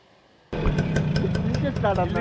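A Yamaha R15 motorcycle engine kicks on abruptly after a half-second of quiet and keeps running at a steady, loud idle, with people talking over it.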